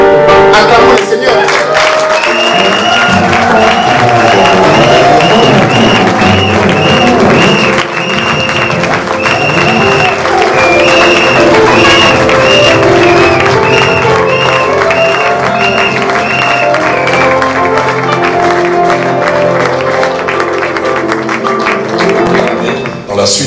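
A church congregation in a Dortmund university hall applauds and cheers steadily, sustained clapping and whoops mixed with music and voices for over twenty seconds.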